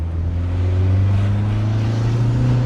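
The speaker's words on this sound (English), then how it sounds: "Wait till you hear me turn into second gear now." A forged Ford Focus RS engine drones steadily as the car pulls through a gear change into second, a loud, low, even hum with a slight rise in pitch toward the end and no talking.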